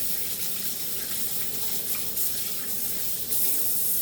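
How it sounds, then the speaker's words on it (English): Steady broadband rush of tap water running into a sink during handwashing in a home kitchen, continuous and fairly close, with no talking. "So I'm going to wash my hands for a minute."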